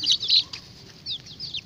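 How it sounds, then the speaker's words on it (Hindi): Hens feeding on small live insects give several high, short chirping clucks in quick bursts, fairly close, with quiet gaps between and no talking. "देखें ये मुर्गियाँ हमारी कीड़े खा रही हैं।"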